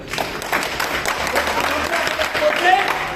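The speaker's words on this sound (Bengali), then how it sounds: "স্যারের সবাই জোরে হাত তালি দেন" An audience claps loudly and continuously at an event, a dense, even wash of applause lasting the whole stretch, with voices faintly mixed in beneath it.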